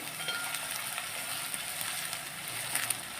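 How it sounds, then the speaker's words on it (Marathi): Two large finely chopped onions frying in oil for a homestyle paneer masala, giving a steady close sizzle with faint stirring clicks, continuous and fairly quiet with no talk. "आता तो कांदा याच्यात घातला थोडा परतून घेऊया आपण"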